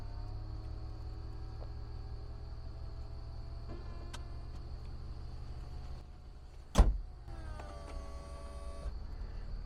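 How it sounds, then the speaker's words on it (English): Electric convertible roof motor of a 2004 BMW Z4 raising the roof: a sharp click, then a steady whirring motor hum for about two seconds, heard close over a constant low background drone. "We can hear the motor there doing its thing, and it all latched properly"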